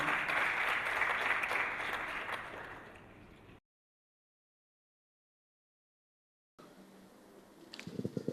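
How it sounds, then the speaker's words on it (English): At a journalism lecture, an audience breaks into loud, dense applause that gradually thins and fades out, then a stretch of silence, followed by quieter room noise and a few knocks or handling sounds. "A round of applause for him."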